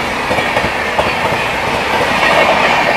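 The Howrah Rajdhani express overtaking on an adjacent track, a loud, continuous roar of rolling wagons with rhythmic clickety-clack and faint wheel squeal, heard close from inside another moving train.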